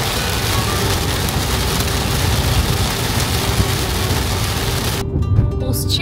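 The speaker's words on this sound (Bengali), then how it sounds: "বৃষ্টি নামলো" Torrential monsoon rain pounds a car moving along the Kolkata to Siliguri highway in July, a dense, loud, unbroken roar that cuts off abruptly in the final second.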